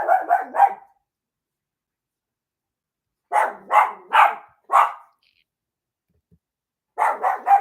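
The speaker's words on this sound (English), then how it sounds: "Sorry about the dogs barking." A dog named Cash barks in three bursts of loud, close barks, three or four at a time, with silent gaps between them.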